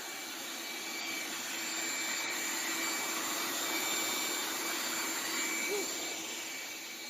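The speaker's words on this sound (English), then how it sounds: "Quick, easy, cheap water pump, leaf blower." A leaf blower runs steadily with a garden hose attached, acting as a makeshift pump to draw water out of a broken washing machine; a continuous loud whooshing roar holds evenly throughout without talk.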